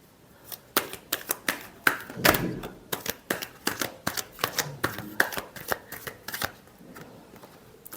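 Tarot cards being shuffled in a series of crisp riffling bursts, a dozen or more quick rhythmic flutters and taps close to the microphone, with no speech over them.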